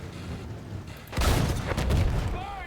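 An explosion in the video game Battlefield 1 lands as a sudden boom, followed by a dense rumbling crackle of blast and debris at moderate loudness, with no talk during it.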